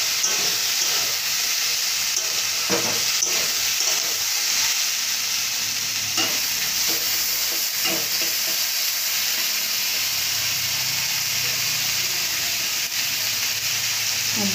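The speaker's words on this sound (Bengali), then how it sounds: "দিয়ে এবার কিছুক্ষণের মধ্যে নাড়াচাড়া করতে হবে, যাতে মশলাটা আলুর গায়ে ভালোভাবে মেখে যায়।" Potatoes coated in a ginger, onion and garlic spice paste fry in a pan with a loud, constant hiss and sizzle. Faint scraping from stirring is heard now and then throughout.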